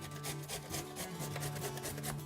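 Carrots rasp against a cheese grater in quick, rhythmic strokes, a quiet, close scraping with no talking.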